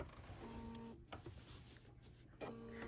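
A sewing machine stitches a quilt in short mechanical runs, a whirring burst near the start and another near the end, fairly quiet and close, with brief pauses between.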